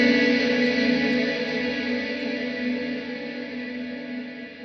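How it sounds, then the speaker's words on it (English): An Encounter delay and reverb pedal with its feedback pushed high gives a dense, sustained, synth-like sci-fi distortion wash that drones steadily and fades slightly. No one speaks. "it starts adding this like really interesting distortion that's kind of sci-fi sounding"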